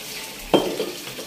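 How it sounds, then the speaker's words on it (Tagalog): A dog washing dishes and plates: a sudden clatter and scrape of dishware at mid-clip, with brief rattling afterward, heard close against a quiet, steady background. "si Yuri, oh, nagugas plato"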